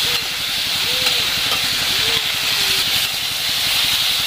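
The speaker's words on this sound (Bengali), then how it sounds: "এগুলো প্রথমে একটু হালকা করে ভেজে নেব।" Mixed vegetables for a Bengali panchmishali sobji chhokka fry lightly in a pan with salt, a steady close sizzle and hiss running continuously, with faint stirring scrapes now and then.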